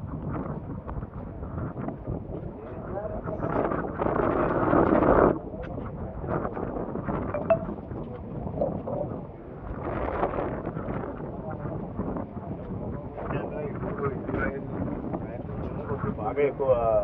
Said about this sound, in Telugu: బాగా ఎక్కువ గాలి వాతావరణం అంతా మారిపోయింది.